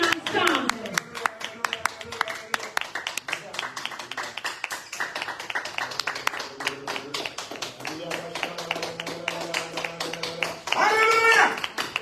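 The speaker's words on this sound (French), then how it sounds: "Let us clap together." A church congregation claps together in a quick, steady rhythm of many sharp claps throughout, while a preacher's voice and some music run underneath, ending with a burst of shouting.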